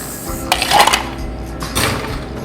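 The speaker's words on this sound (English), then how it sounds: "I'm gonna add ice to the mix." Ice clattering into a metal cocktail shaker holding cream, lime juice and candy-cane-infused gin, a few sharp rattling bursts close up with no talk.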